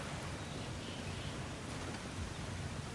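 Rushing water flows steadily in God of War Ragnarok, a dense broadband wash like a stream or falls, constant and even throughout with no voices over it.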